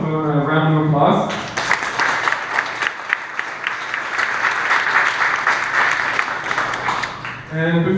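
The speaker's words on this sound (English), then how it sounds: "So can we give them, both of them, a round of applause?" Audience applause for speakers at a coding meetup, dense close clapping that starts abruptly after a voice and holds steady for several seconds before talk returns at the end.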